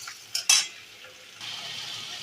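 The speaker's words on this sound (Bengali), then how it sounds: "পেঁয়াজ দিয়ে ভাজা ভাজা করে" Onions frying in a pan with whole garam masala, meat and potatoes: a couple of quick utensil clatters, then a soft, steady sizzle close by.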